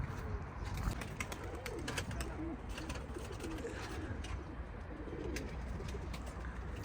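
Turkish tumbler pigeons coo repeatedly in soft, low, rolling calls over a steady outdoor background. The calls are faint to moderate and come from several birds.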